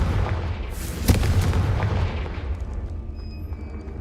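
A Confringo fire spell bursts with a sharp boom in the Hogwarts Legacy video game, followed by a rumbling roar of debris and flame that slowly fades, loud and close.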